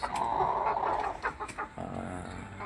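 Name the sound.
wild chicken clucking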